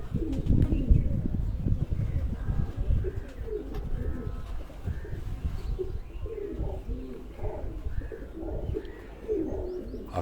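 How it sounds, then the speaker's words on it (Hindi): Chino France breed pigeons coo repeatedly at close range at a home loft, soft throaty rolling calls overlapping one another with light rustling and a few chirps, no talking. "ये दोस्तों वो चीनी ब्रीड चीनो फ्रांसे, ये भी चौधरी बाबर साहब के घर के कबूतर हैं।"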